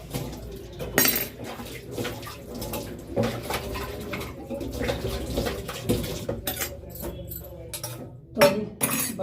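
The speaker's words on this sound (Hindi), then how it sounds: "बर्तन धोने में ना बहुत आफत आती है" Dishes, pots and cutlery are washed by hand in cold water, with clinks, scrapes and splashes coming in irregular bursts close by, plus a sharp clatter near the end.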